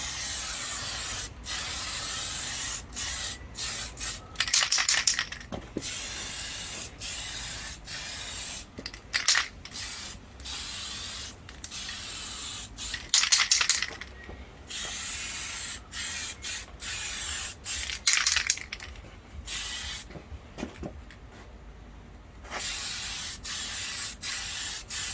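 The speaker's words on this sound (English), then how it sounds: "best to spray this outside if possible" Aerosol spray paint applied to a 1/5 scale Baja RC car body, a close hissing spray in repeated short and long bursts separated by brief pauses.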